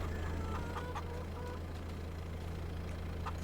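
Chickens cluck in the Farming Simulator 22 video game, short scattered clucks over a steady low engine idle hum.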